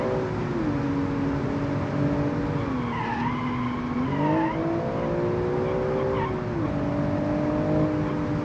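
Car engine revving in the BeamNG.drive driving game, a loud, continuous engine drone that rises and falls through gear changes, with tire squeal audible over it.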